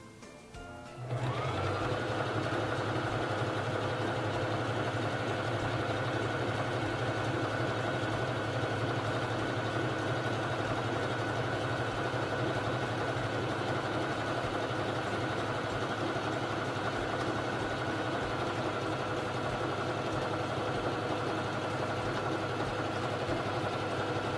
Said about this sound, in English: it's time to sew the feather stitch